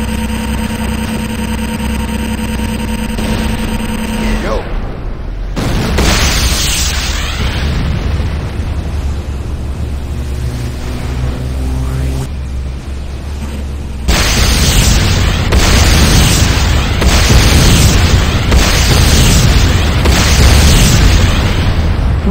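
Heavy explosions and booming impacts from the Command & Conquer: Renegade video game, loud and layered with rumbling blasts and bursts throughout, with a sharp cut midway into a fresh barrage.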